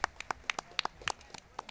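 Scattered hand claps from people at a school pep rally, a dozen or so sharp, uneven claps spaced irregularly, fairly close, with faint voices in the background.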